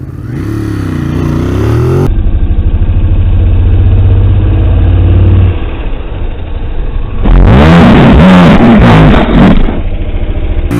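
A Ducati Monster 821 motorcycle pulls hard in first gear on an open street, its engine climbing from a loud rumble into a sharp rising rev, then dropping and surging again in quick bursts near the listener.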